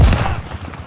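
A single loud sniper rifle shot in a video game blasts close and heavy, then rings off in a short rumbling decay.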